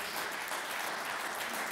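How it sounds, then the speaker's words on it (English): A church congregation at a Sunday celebration service claps their hands in praise, a steady, dense wash of clapping from the room with no voices on top. "give Jesus a hand clap of praise"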